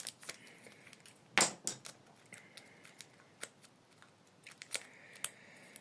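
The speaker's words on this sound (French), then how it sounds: "Tu ouvres ta petite pochette à graisse." A small grease sachet is opened for an Electrolux washing machine bearing: sharp crinkly plastic rustles and one loud snipping tear burst, then scattered lighter crackles and taps, close and otherwise quiet.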